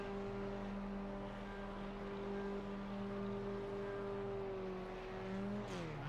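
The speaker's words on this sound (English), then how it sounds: "just like to hear the sound of the F4" A Formula 4 single-seater race car engine at Silverstone holds a steady, droning roar throughout, heard from a distance, with a brief rising-then-falling pitch sweep near the end.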